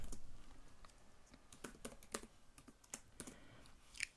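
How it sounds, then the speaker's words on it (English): Code is typed on a computer keyboard in quick, irregular bursts of clicks and taps, close and faint, with no voice. "so I will just type it quickly."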